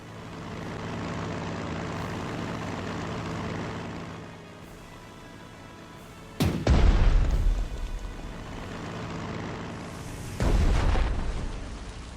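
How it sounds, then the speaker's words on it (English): Aircraft engine drone in the video game Strategic Mind: The Pacific gives way to two heavy, booming bomb explosions dropped from planes, the first sudden and loud with a rumbling tail, the second arriving a few seconds later. "Explosions look like the rising sun."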